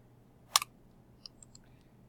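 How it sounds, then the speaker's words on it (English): A handheld calculator's buttons are pressed in a few light, quick plastic clicks, one sharp double tap followed by several fainter taps, quiet and close in an otherwise still room. "Type that in our calculator."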